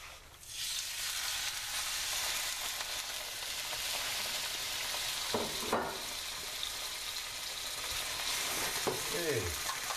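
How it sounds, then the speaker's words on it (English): Fish sizzles steadily in a hot pan for Veracruz-style pescado, a loud continuous fry with a few brief stirring or scraping sounds near the end and no talking. "Start putting in the fish."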